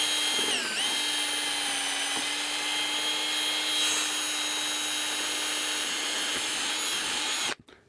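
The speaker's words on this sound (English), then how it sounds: "So I'll go back to my drill and add this attachment." A power drill with a mixing attachment whirs steadily while stirring clay slip, a close and continuous high-pitched whine that holds for several seconds and then cuts off abruptly.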